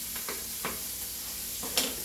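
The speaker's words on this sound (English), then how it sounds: "So what I am going to do is stir it up and let the onions cook" Onions and pork fry in a pot while a spoon stirs them, giving a steady sizzle broken by a few soft scraping strokes, close and alone.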